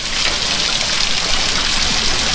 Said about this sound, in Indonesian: Terus airnya ngalir.